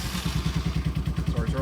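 A 1995 Honda Fourtrax 200 four-wheeler has its engine cold started, already chugging in a quick, even thumping putter close by.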